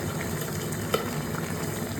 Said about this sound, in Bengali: এবার আমি পাবদা মাছটা এদিকে ভেজে নিই